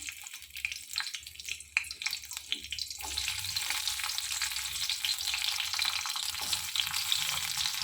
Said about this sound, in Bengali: দেখুন কড়াইয়ে তেল দিয়েছি, এবার রসুনগুলো দিয়ে দিলাম।